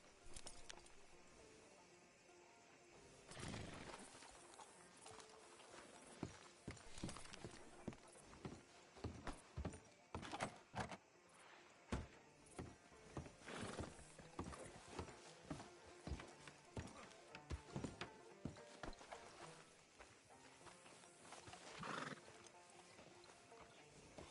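A horse in a western video game clip-clopping along with occasional whinnies, hooves thudding in an uneven rhythm over a low game ambience for about twenty-four seconds, fairly close.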